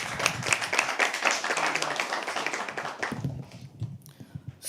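A live poetry open mic audience at The Habitat claps steadily and densely for about three seconds, then the applause thins out into a few scattered claps and quiet room noise.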